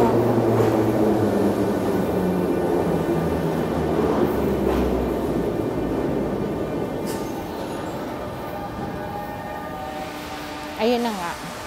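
A train in Moscow, Russia roars loudly and steadily with a broad rumble that eases slowly, and a brief horn-like tone sounds near the end.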